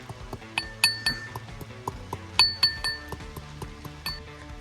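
Ginger pounded with spices in a mortar for a stuffed brinjal curry, giving a series of sharp, clinking strikes in an uneven rhythm, close and fairly loud, with no talk.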